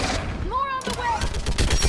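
Battle gunfire in Mass Effect 3 on a bridge at Thessia, bursts of shots cracking amid dense combat noise and shouted voices, a steady loud mix with no pause across the short stretch.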